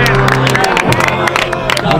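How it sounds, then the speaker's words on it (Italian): Audience applause and cheering for Catalano at a Premio Capitano event, a dense crowd roar of clapping with whoops running steadily for two seconds, close and loud, with voices mixed in. "Un applauso a Catalano."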